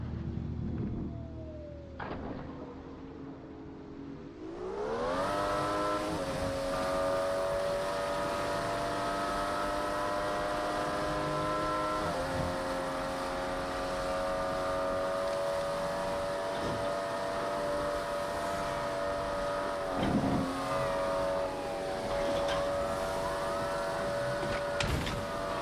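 Car engine in the Fast & Furious Crossroads video game, idling quietly and then revving up into a sustained, steady drone with a rising pitch, as if driving at speed for about twenty seconds, with faint clicks and knocks and no talk.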